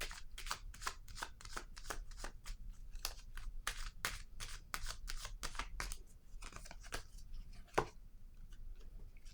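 Tarot cards being shuffled by hand, a close, quiet run of rapid riffling flicks in bursts, followed by a single sharper snap as a card is drawn, with no talking.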